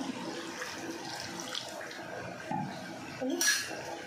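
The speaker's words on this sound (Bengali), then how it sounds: "আর একটু জল দিয়ে দেবো।" Water is poured in a small amount into a cooking pot of paneer curry, a faint trickle and splash in a quiet kitchen with a brief clink near the end.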